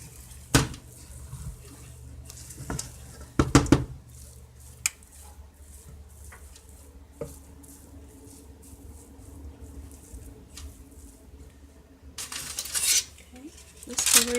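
Corned beef jollof rice is stirred in a cooking pot, giving a few sharp metallic clinks and scrapes of a utensil against the pot among quieter scraping, close up, with no voices.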